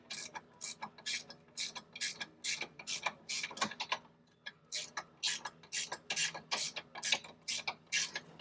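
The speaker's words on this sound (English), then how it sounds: "but I'm just taking 2 bolts out." Ratchet wrench clicking in quick repeated bursts while two bolts are backed out of a sway bar link on a vehicle's front suspension, close and fairly quiet, with short pauses between runs of clicks.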